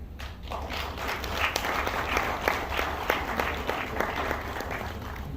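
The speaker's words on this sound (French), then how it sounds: "nous pouvons les accueillir avec des applaudissements" Sustained applause from a crowd at a UDPS political gathering, dense steady clapping that stays loud throughout with no talking over it.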